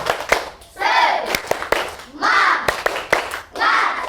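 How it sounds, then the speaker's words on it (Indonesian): Children's rhythmic clapping chant in a classroom, sharp claps in patterned bursts alternating with group voices shouting the chant in unison, close and loud. "Tepuk semangat."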